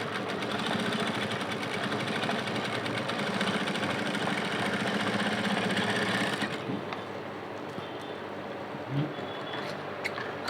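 Sewing machine stitching a fabric boning casing on a corset, a steady fast whirring run that stops abruptly partway through, followed by quieter handling noises and a small clunk.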